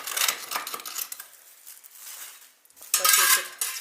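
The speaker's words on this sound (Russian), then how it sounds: "Вот так мы сначала вытаскиваем всю золу." Ash and debris are scooped out of a living-room fireplace: scraping and rattling of a metal scoop against the hearth, continuous and moderately close, with a louder burst of scraping near the end.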